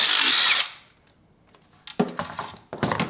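A power tool removes 12 mm upper intake manifold bolts on a Honda Ridgeline, with a loud close burst of drilling, then a pause followed by clattering and rattling of bolts and metal parts.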